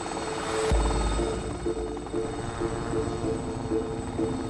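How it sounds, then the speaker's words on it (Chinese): A bucket firefighting helicopter flying during a fire drill, its rotor throbbing in a steady rhythmic beat over a continuous engine hum, loud and close, with a brief burst of noise at the start. "吊筒式消防直升机是演习的主角。"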